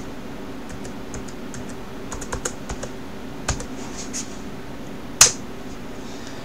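Quiet keystrokes on a computer keyboard as a password is typed into a Linux terminal, a few soft clicks spread out over low room hum, ending with one sharper, louder key press near the end.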